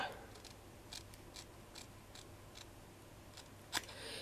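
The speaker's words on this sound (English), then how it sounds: "I'm going to snip this out." Scissors snip through a beaded craft leaf, giving a few quiet, sparse cuts over a soft hiss and ending in one sharper, louder snip near the close.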